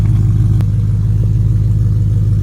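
A BMW E90 M3 engine drones steadily with a deep, rumbling low end, holding a constant throaty tone without pauses or voices.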